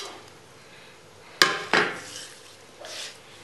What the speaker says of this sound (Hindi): आंवले को अच्छी तरह से मसाले में लपेट देंगे।